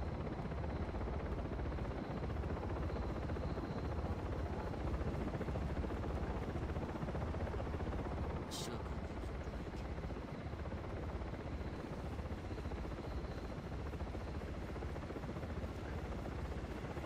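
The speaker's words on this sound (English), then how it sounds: "The chopper will do a circle sweep of the shadows." A helicopter circles overhead in Manhunt 2, giving a loud, continuous rotor roar and wash that dominates throughout, with a brief sharp sound partway through.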